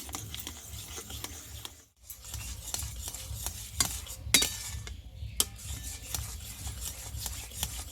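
Mango pulp is stirred in a pan, giving repeated scraping and rubbing strokes at an uneven rhythm with a few sharper clicks, close and fairly quiet, with a brief pause early on.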